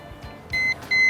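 A cooking thermometer alarm sounds two sharp, high electronic beeps about a third of a second apart, close and clear, with faint room noise beneath and no talking.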